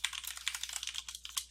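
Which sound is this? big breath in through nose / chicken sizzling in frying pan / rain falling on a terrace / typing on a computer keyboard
typing on a computer keyboard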